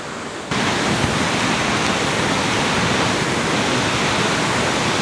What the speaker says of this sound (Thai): นี่คือบรรยากาศของ ชั้นที่สาม ของน้ำตกห้วยแม่ขมิ้นครับ